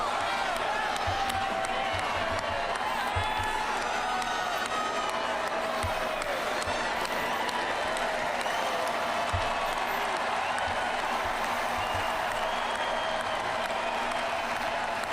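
A large crowd of supporters at a Donald Trump event cheers, whoops and applauds continuously, a loud, steady roar of voices and clapping with no break.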